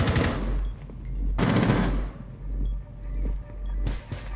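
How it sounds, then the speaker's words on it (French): Rainbow Six Siege gunfire on the Littoral map: two long, loud automatic bursts open the clip, followed by scattered quieter shots and clatter, then another loud burst near the end, over a low steady hum. "Pourquoi tu tires à l'infini Enzo?"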